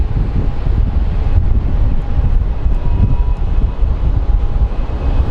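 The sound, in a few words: wind blowing at the airport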